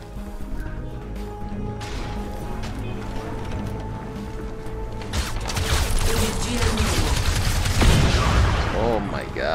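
Gunfire and explosions from the video game Crysis crackle and rumble continuously at loud, dense levels, swelling toward the end with heavier blasts and mechanical clatter.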